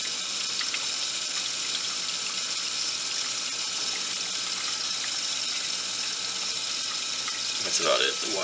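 A reef tank GFO reactor pump starts back up, sending a steady, close rush of flowing water that runs unbroken, with a brief splashy burst near the end.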